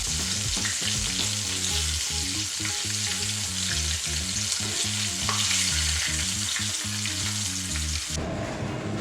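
Walleye fillets fry in a hot pan with a loud, dense, continuous sizzle and crackle, heard close up with no talking, until the sound cuts off near the end.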